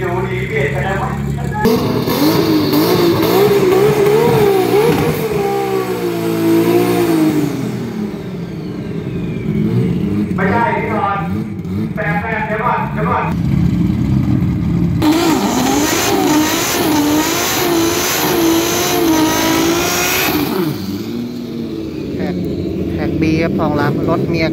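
A drag car in a 275 radial class drag racing event at a strip revs and accelerates hard, loud engine roars rising and falling in several bursts, with a commentator talking excitedly over the noise throughout.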